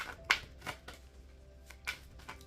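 Several soft riffling bursts of cards being shuffled, spaced irregularly, fairly quiet with a faint steady hum underneath and no talking.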